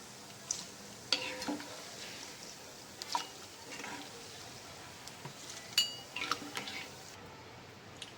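Chana dal sizzling in hot oil for a corn chivda, a faint steady fry with scattered stirring scrapes and light clinks from the pan, no voices.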